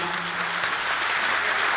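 A crowd at a mushaira poetry gathering in Ichalkaranji, India applauds steadily, dense clapping filling the whole moment without pause.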